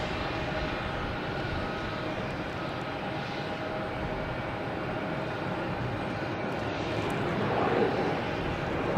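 A JetBlue jet airliner at Logan Airport at night, its engine noise a steady, moderately distant broadband roar that swells slightly toward the end.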